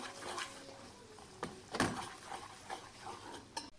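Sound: flour being toasted and stirred in a pan

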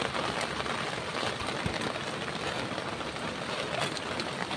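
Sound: rain falling

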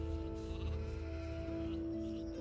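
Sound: sheep bleating in the video game Gothic II

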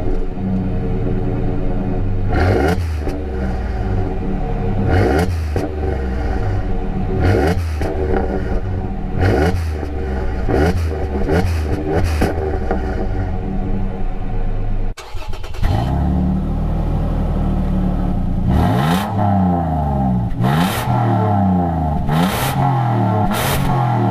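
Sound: Ford Ranger V6 and Toyota Tacoma V6 exhaust revving

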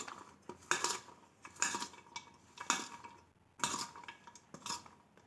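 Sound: stirring fresh turmeric pieces with pickle masala

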